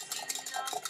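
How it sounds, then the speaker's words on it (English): Rapid metal whisk strokes beating salad dressing ingredients in a bowl, a quick, even clatter of tines against the sides, close and fairly quiet. "So you just take a whisk"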